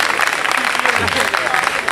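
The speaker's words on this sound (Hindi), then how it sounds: "इसके तालियां बजाइए" A crowd applauds at a poetry recital in a college hall, with loud, dense clapping throughout and voices mixed in beneath it.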